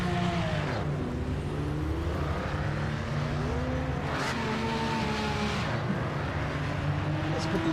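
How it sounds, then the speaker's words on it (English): Race car engines rumbling and revving in the racing game Project Motor Racing, a steady loud drone of several cars with rising and falling engine tones as they pass, with a voice talking over it. "Listen to those cars rumble"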